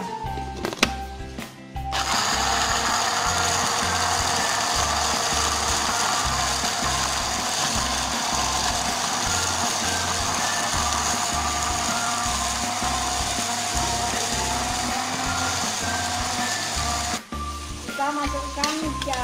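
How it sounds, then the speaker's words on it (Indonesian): A blender grinds sliced lemongrass for petis, a loud steady motor whir that starts after a short pause, runs unbroken for about fifteen seconds, then cuts off near the end. "Serainya diiris, kemudian akan kita blender juga."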